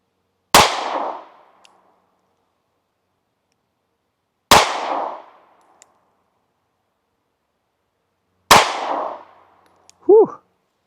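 Three sharp gunshots from a .380 pistol test-firing Underwood .380 XTP ammunition, evenly spaced about four seconds apart, loud and close, each with a short decaying ring, followed by a faint metallic clink.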